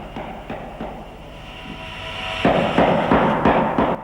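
Copper rivets are hammered and clenched on a wooden boat hull at a hand-built shipyard, with sharp, evenly spaced metallic strikes about twice a second over a steady background hum, and no talk.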